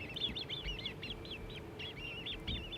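Young grebes at Amsterdam Schiphol Airport give a rapid series of high, thin chirping calls, repeated steadily throughout over a low background rumble.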